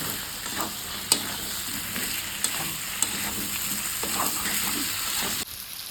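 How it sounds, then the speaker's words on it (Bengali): Fried potatoes stir-fried with spice masala in hot oil for a Bengali flour-vegetable dish, giving a steady close sizzle with a few sharp spatula clacks and scraping strokes, with no talking. "এবার আলুগুলো দিয়ে দেবো এর মধ্যে, যে ভেজে রাখা আলুগুলো দিয়ে দেবো, দিয়ে মশলার সঙ্গে এটা কষিয়ে নিই ভালো করে।"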